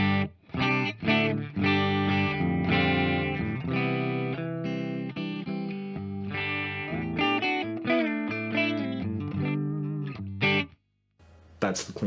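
A clean electric guitar runs through a Plethora X5 and Torpedo with a Celestion Greenback cabinet impulse response, playing dry sustained chords and melodic notes for about eleven seconds before stopping briefly.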